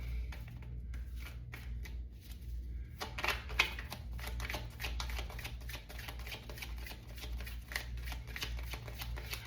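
Tarot cards are riffled and shuffled by hand in a steady run of crisp, papery flutters and slaps, near and fairly loud, continuing alone after a brief quiet start with a low background hum.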